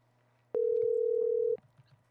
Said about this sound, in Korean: 전화 연결 제가 직접 전화를 해 보도록 하겠습니다